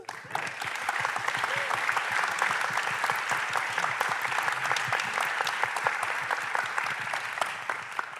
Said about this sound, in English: let's give the youth orchestra another round of applause